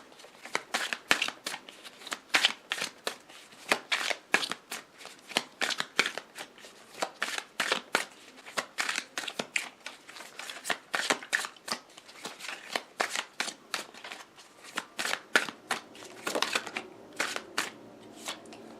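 Tarot cards shuffled for a reading, producing a steady stream of brisk, close card flicks and riffles for nearly twenty seconds, quiet and without speech over it.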